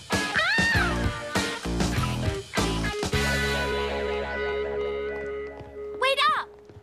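In a cartoon scene, a voice imitates a cat with a short, high, rising meow near the end, after music and character talk.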